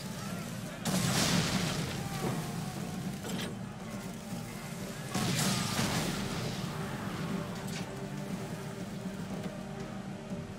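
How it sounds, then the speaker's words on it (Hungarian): Ship cannon fire in the video game Assassin's Creed 3, two heavy booming volleys rolling out at sea over a steady background rumble of wind and waves. "Hagyd már abba a lövést!"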